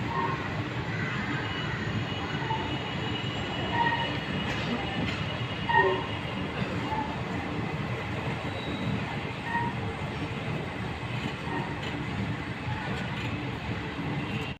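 A passenger train runs at night after pulling out of a railway station on the Bengaluru to Challakere route, a steady rumbling roar of wheels on track heard from inside a nearly empty coach, with a few faint clanks.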